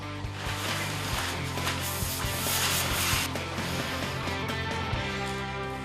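Steady brushing and rubbing as lining paper is smoothed onto an uneven ceiling during wallpapering, with repeated scraping strokes over a low background hum.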